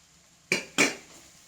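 Grated coconut is stirred into a chickpea and banana-stem thoran in a pan: two sharp metallic scrapes and clinks of a spoon against the pan, close and fairly loud, in a quiet kitchen.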